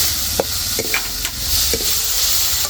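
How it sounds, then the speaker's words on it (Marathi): A spoon stirs ground spices in a hot pan while matki usal cooks, giving a few scraping clicks over a steady soft sizzle, close and moderately loud. "सगळे डायरेक्ट मसाले टाकले वरती परती घेते"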